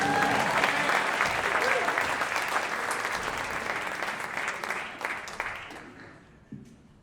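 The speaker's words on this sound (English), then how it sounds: "how about giving yourselves a round of applause for coming out and supporting live music?" An audience at a live music concert applauds in a dense, steady burst of clapping that thins and fades away over several seconds, leaving a few scattered claps at the end.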